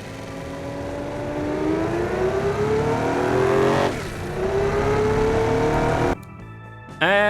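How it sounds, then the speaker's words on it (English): A 1960s car lapping a test track in the video game Automation, its engine revving up through rising gear pulls, close and steady, with shifts and a sudden drop near the end. "Let's have it go around the test track and see what it does."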